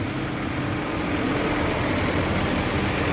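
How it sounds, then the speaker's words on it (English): A Ford Fiesta engine idles steadily after a fuse box headlight repair, a continuous close, even hum with a broadband hiss and no variation. "Engine running."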